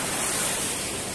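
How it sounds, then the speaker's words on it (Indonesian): Surf at Igan beach in Sarawak, a broad, steady rush of breaking waves with some wind buffeting the microphone. "dekat pantai Igan sekarang"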